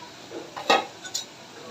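Fried hilsa pieces are dropped into a pot of curry with pointed gourd and lentil fritters, giving a few short metallic clinks and knocks of utensils against the pot over a faint simmer.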